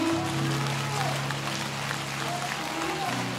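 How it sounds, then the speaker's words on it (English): Church congregation clapping hands in a steady, moderately loud wash of applause, with sustained keyboard chords underneath and voices mixed in. "Would you clap those hands and thank God?"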